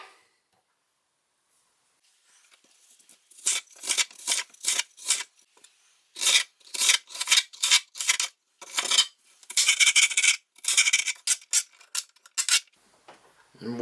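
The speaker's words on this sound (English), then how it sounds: "Then I'll come back, cut those strips in half." A knife slicing bell pepper strips on a cutting board for chili con carne, a fast run of crisp close chops in bursts after a quiet opening.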